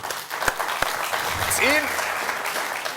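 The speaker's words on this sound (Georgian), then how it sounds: "400 ლარი შენია, აპლოდისმენტები." A studio audience applauding at a Georgian game show, a dense wash of clapping that stays under a man's speech, with a couple of sharp thumps near the start.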